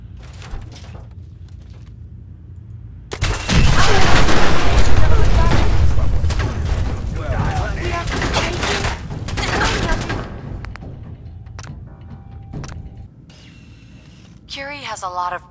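Heavy bursts of gunfire and booming blasts from a Bethesda video game, loud and dense for several seconds before easing into scattered shots over a low rumble, with game talk in places.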